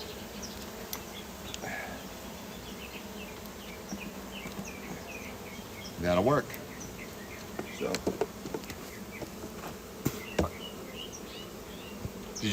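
Honey bees hum steadily around an open hive during a February inspection, a continuous close buzz with a few sharper fly-by swells and handling knocks; a person speaks briefly.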